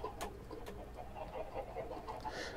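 Soft clucking and chirpy bird calls from chickens in Minecraft, fairly quiet, repeating irregularly over a faint steady background hum.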